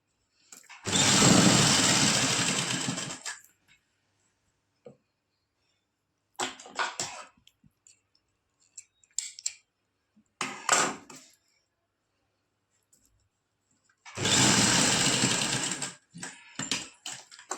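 A sewing machine stitches net lace onto a suit, with two long whirring runs of a few seconds each and several short stitching bursts between them, close up, with quiet gaps and no talk.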